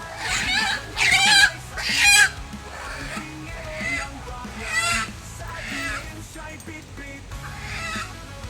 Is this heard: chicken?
yes